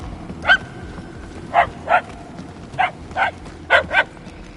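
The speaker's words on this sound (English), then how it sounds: "The barks are getting louder," Dogs in the Guardians of the Galaxy video game bark in a string of about seven sharp, separate barks, some in quick pairs, over a low ambient game background.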